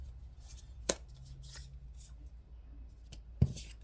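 Soft riffling and sliding of tarot cards being shuffled, punctuated by two sharper taps, close and fairly quiet.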